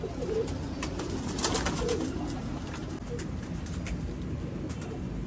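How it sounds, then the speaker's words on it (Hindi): Old-line Jonsirre Teddy pigeons coo close by in a steady run of soft, throaty calls over a constant background hum, with no voices present. "बड़े खूबसूरत ओरिजिनल चौधरी सखी साहब वाले पुराने कबूतर।"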